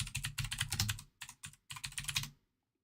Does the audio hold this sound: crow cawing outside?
no